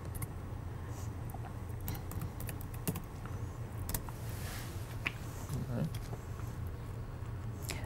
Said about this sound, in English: So it's a simple matter of typing in your username